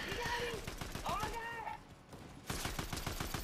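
Rapid bursts of video game gunfire in Fortnite crackle close and loud, a brief lull, then another sustained stream of shots, with excited talking mixed in over the first half.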